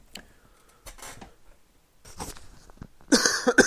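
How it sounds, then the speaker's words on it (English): A person near a microphone coughs in a few separate bursts during a spoken talk, the last burst the loudest and harshest, with quiet gaps between them. "Coughing."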